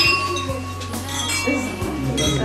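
Glasses clinking in a toast at a gallery exhibition opening, a few bright clinks scattered through a murmuring crowd of voices.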